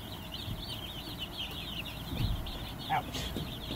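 A brooder holding 75 Jumbo Cornish Cross chicks gives off a soft, steady chorus of high peeping and clucking. It is fairly faint, with a few louder calls near the end.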